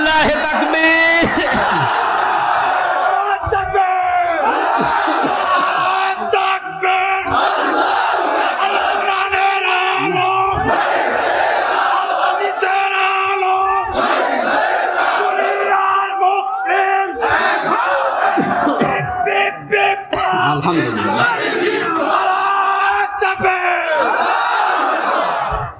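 A large crowd at an outdoor religious gathering in Jhenaidah roars takbir in loud, sustained collective shouts, rising and falling in waves across the whole stretch with scattered individual yells over the mass of voices.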